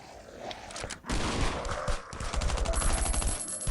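Bursts of rapid automatic gunfire in the survival shooter Last Island of Survival, loud and close, with a brief pause before dense repeated volleys and faint footsteps.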